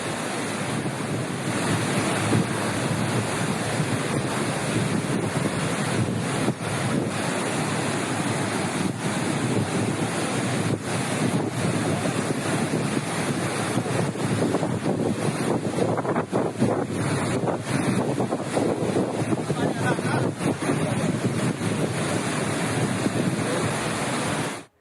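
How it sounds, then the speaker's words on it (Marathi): Shivthar Ghal waterfall near Mahad in Raigad thunders in heavy monsoon rain, a loud continuous roar of rushing water with gusty wind buffeting across the microphone for the whole stretch. "शिवथरगळ इथल्या धबधब्याचं रौद्ररूप"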